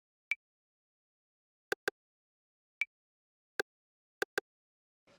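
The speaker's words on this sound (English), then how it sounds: "It's an 808 clave, and then an 808 rimshot." Roland TR-808 drum machine percussion samples, a clave and a rimshot, played as sparse, crisp, very short clicks and knocks in a loose pattern, some in quick pairs, over silence.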